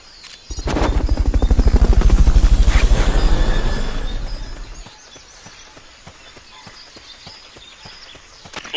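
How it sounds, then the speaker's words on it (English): A Fulton recovery helicopter in Metal Gear Solid: Peace Walker thumps with a loud, rapid rotor pulse that swells and then fades away, followed by faint scattered clicks. "Fulton recovery subject confirmed onboard helicopter"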